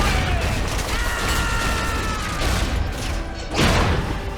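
Dense battle gunfire from Medal of Honor: European Assault rattles through a naval assault scene, a continuous roar of overlapping volleys capped by a louder booming burst near the end.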